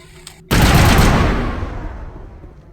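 Rifle fire in the video game Mass Effect, a sudden loud blast or burst of shots that fades into a long rumbling decay.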